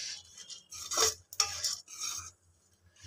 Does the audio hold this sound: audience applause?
no